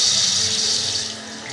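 Tap water runs steadily into a sink as a warm stream, a broad continuous hiss that fades slightly toward the end, close and alone with no talking.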